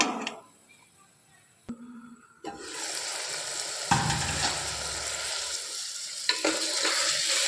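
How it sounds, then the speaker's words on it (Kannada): Ridge gourd with green chillies, ginger, garlic and tomato frying in a pan, a quiet start giving way to a steady loud sizzle with bursts of stirring and scraping throughout. "ನೋಡಿ, ಹೀರೆಕಾಯಿ ಚೆನ್ನಾಗಿ ಫ್ರೈ ಆಗೈತೆ."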